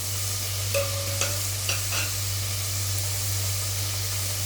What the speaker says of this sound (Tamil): தக்காளி வதங்குறதுக்கு கல் உப்பு சேர்த்துக்கலாம்.